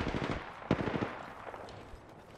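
Video game gunfire aimed at the player comes as rapid automatic bursts, close and fairly loud at first with one sharp peak, then thinning into scattered quieter shots.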